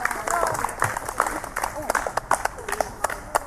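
Concert audience applauding as a cover band's members are introduced, steady dense clapping with sharper individual claps standing out, while a presenter speaks over it through the amplified hall.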